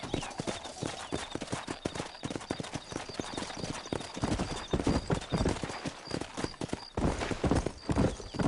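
Horses in Red Dead Redemption clip-clop at a gallop, with rapid hoofbeats close by, a neigh partway through, and faint talk mixed in.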